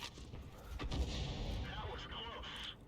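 An M44 self-propelled artillery gun fires in a tank video game, one heavy low boom that rolls into a lingering rumble, with game ambience and faint voice-like tones toward the end.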